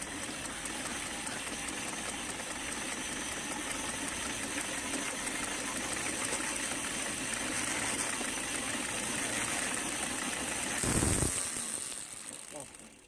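A 775 DC motor rigged as a generator spins with a steady mechanical whir that builds as the speed increases, with a brief louder burst near the end. A voice speaks faintly at times.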